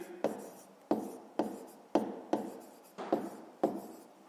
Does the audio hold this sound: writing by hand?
yes